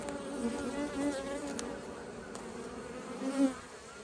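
Dense, continuous buzzing of many honey bees at an open hive in October, a steady droning hum close by with small swells in loudness and no talking.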